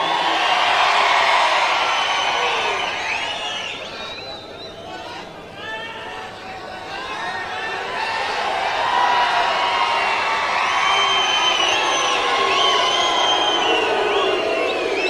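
A large crowd at a political rally in Solapur, Maharashtra shouts, whoops and cheers loudly and continuously for about fifteen seconds, dipping briefly in the middle before swelling again.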